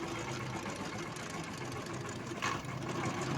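Mahindra 215 tractor engine speeding up on a rough, bumpy road, a steady mid-pitched chugging drone that runs throughout with a brief rattling bump near the end.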